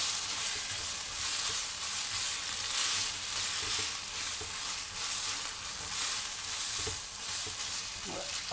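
Beef chilli with soy sauce and chilli sauce being stirred in a hot pan, giving a continuous bright sizzle with soft scraping and shuffling of the stirring, even in level throughout.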